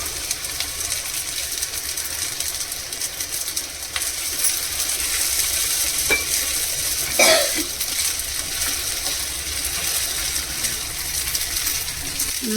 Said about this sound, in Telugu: ఇప్పుడు ఈ సగ్గుబియ్యం వేసేస్తున్నాం చూడండి